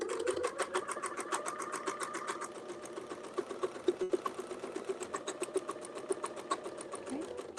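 A sewing machine with a clamshell foot stitches fabric along a seam allowance, a fast, even mechanical chatter, close and steady, pausing briefly midway before resuming.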